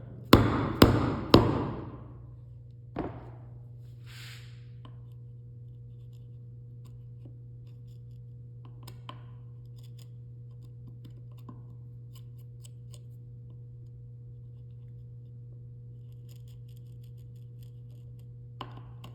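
A chisel is struck to cut wood down to a marked line: three sharp, loud knocks in quick succession, then a single lighter tap, followed by a long stretch of low steady hum.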